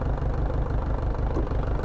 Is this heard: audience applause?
no